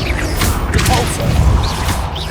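Casting the Depulso spell in Hogwarts Legacy gives a short, forceful blast with a heavy thud and a crashing impact, loud and close, with no talk over it.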